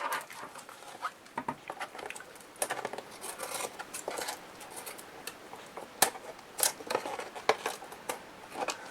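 Scissors snip paper for a handmade mini album, a run of quiet, close, irregular crisp cuts and rustles spread over several seconds, with no talk.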